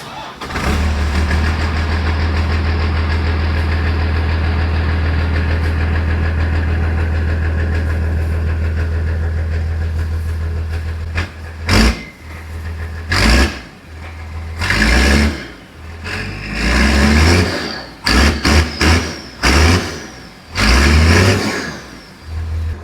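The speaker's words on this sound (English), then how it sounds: "now that it's straight piped, let's go see what it sounds like" A straight-piped truck engine idles with a deep, steady rumble, then revs in loud, sharp bursts, the raw exhaust note close and aggressive.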